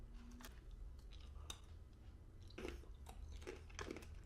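Nuts crunch between the teeth in close, quiet bites, a few crisp cracks followed by softer chewing, with no talk.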